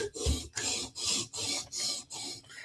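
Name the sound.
knife blade sharpened on TSProf Kadet sharpener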